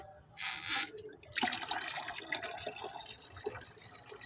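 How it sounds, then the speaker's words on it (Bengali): Water from a tap pours into a 25-litre bucket, a faint splashing gush that starts in a short burst, pauses, then continues unevenly and close by. "তার সঙ্গে পঁচিশ লিটার জল মিশিয়ে দেবো তো আমার জল মেশানো হয়ে গেছে এবার আমি কলটা বন্ধ করে দেব"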